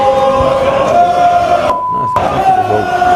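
São Paulo supporters in a stadium chanting insults at club president Leco, a loud, massed chorus of voices rising and falling, briefly cut to near silence by a bleep midway before resuming.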